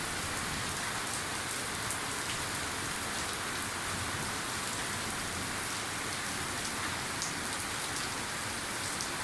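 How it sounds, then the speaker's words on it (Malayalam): Steady rain falls continuously, a dense hiss of drops pattering on surfaces with no break and no voices. "നന്നായിട്ട് തന്നെ മഴ പെയ്തു"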